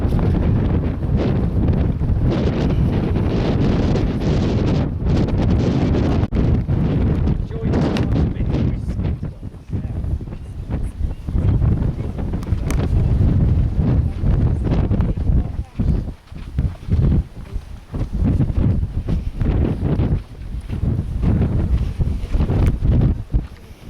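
Strong wind at the Stones of Stenness in Orkney buffets the microphone in loud, rough gusts that rise and fall throughout.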